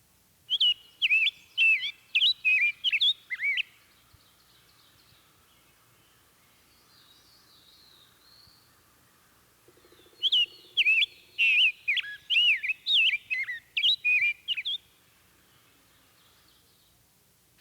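Rose-breasted grosbeak singing rich, slurred whistled phrases in two close, clear bouts of quick notes separated by a quiet pause, with no voices.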